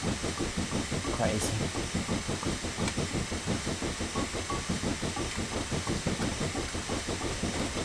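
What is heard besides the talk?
steam locomotive running in Railworks 3 video game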